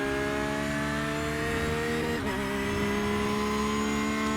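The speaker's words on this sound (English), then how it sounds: "Little lift there, then back on the gas." A Porsche GT3R race car engine howls at high revs around Hockenheim in iRacing, a steady loud whine with a brief dip from lifting off the throttle before pulling hard again.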